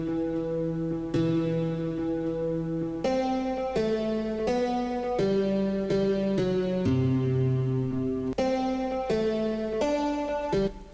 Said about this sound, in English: a guitar sample, and it sounds like this.